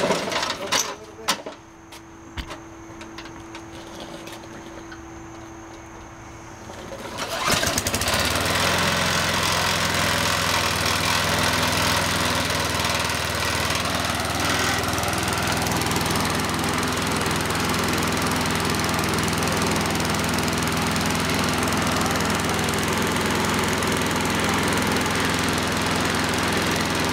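A Toro lawn mower engine cold-starts after a few quiet seconds of handling, then runs steadily and loudly at a rough, constant idle for the rest of the time.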